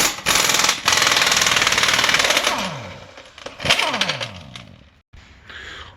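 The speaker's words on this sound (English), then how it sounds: "And I'm using air gun." Pneumatic impact gun hammering off the 32 mm rear sprocket nut on a 2007 Kawasaki Ninja ZX6R, loud rattling bursts that wind down, then a brief final burst, no speech.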